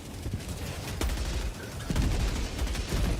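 Sustained MG43 machine gun fire from Helldivers 2, a dense, loud rattle of rapid shots with a few sharper bursts standing out, continuous and close throughout.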